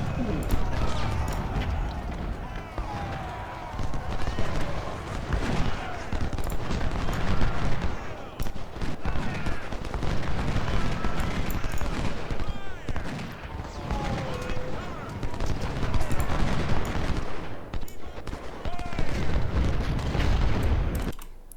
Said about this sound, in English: He came under 24-pounder fire.